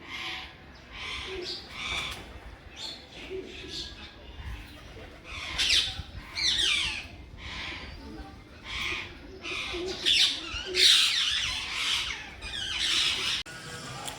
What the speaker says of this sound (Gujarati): તો જો પાછા બહુ બધા પોપટ આવી ગયા છે.